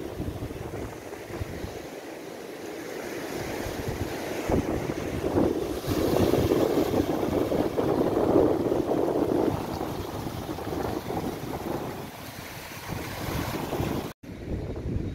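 Sea waves at Gopnath beach near Bhavnagar, a rocky coast with carved cliffs, wash in a continuous roar that swells in the middle, while wind buffets the microphone heavily; a brief dropout near the end.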